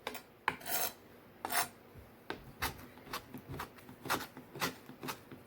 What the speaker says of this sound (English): Now the chives I do with a pair of scissors because it's easier to do it with a pair of scissors.